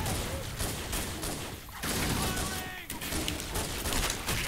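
Gunfire from the video game Halo 1 rattles in dense, continuous bursts of rapid shots and crackling impacts, loud and close throughout.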